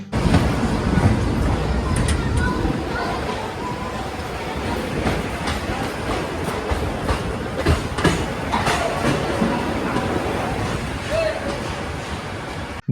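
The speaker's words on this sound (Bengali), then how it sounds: "কালকামেল বর্ধমান স্টেশনকে বিদায় জানিয়ে আবারও রওনা দিল গন্তব্যের উদ্দেশ্যে" The Kalka Mail (Netaji Express) pulls out of Burdwan station at night with a steady rumble and clickety-clack of wheels over rail joints, plus occasional squeals and clanks, while a voice talks over it throughout.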